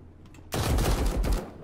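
Close, loud bursts of rapid automatic gunfire erupt suddenly in a space pirates video game, running as one dense fusillade after a quiet start.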